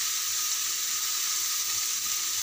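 Bottle gourd (lauki) sautés in a pan with a continuous, even hiss of sizzling that stays close and fairly loud, with no talking.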